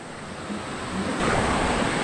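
Water pours down at Eratti waterfalls in the Burgur hills as a continuous broadband roar that swells slightly louder partway through, with some wind buffeting and no voices.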